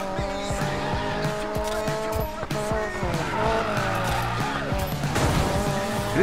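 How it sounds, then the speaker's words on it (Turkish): A car in the video game Need for Speed Payback drifting, tires squealing in long wavering screeches over a revving engine, loud and close with repeated slides. "drift yapmaya başladığın zaman acayip hızlanmaya başlıyor bir anda araba."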